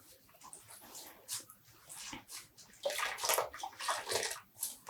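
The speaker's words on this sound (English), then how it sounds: "I'm squeezing out the water" Water is squeezed by hand out of freshly dyed yarn, giving soft, faint splashes and trickles in irregular bursts that grow a little livelier toward the end.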